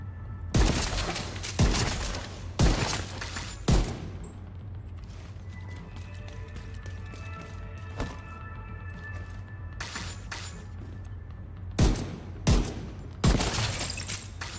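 Video game gunfire: loud, sharp bursts of rapid shots in clusters, a pair early, then scattered single cracks, and another volley near the end, over a steady low hum.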